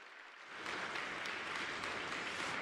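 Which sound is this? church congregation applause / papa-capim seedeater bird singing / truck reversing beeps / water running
church congregation applause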